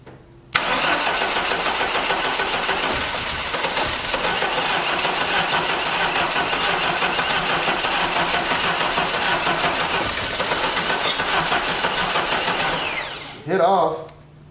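Engine of a 1989 Dodge Daytona from a salvage yard cranking briefly, then catching and running loud and steady close up for about twelve seconds before shutting off.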